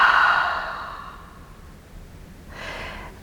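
A long, deep breath exhaled through the mouth during a yoga routine, a soft breathy rush that fades, followed by a fainter second breath near the end.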